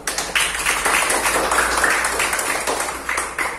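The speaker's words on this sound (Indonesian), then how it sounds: "Tepuk tangan semuanya dulu" A classroom of students applauds together, a busy patter of many hands clapping at close range that holds steady for several seconds before easing slightly at the end.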